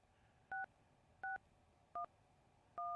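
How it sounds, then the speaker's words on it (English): Telephone keypad dialing tones, four short evenly spaced DTMF beeps, clear and alone against a faint background hiss. "Do y'all hear that dialing stuff?"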